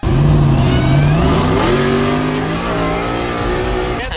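Ford F-150 with a Coyote engine, full bolt-on build, accelerating hard with a loud rising engine roar that climbs in pitch through the gears, close and continuous.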